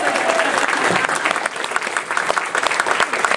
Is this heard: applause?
yes